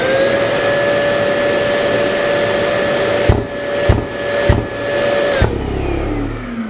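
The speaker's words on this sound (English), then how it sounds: "So what you're hearing there is a reverse airflow." Bosch VAC090AH dust extractor running loud and steady with a constant whine, then four sharp thumps of reverse airflow filter cleaning in quick succession before the motor tone drops and winds down.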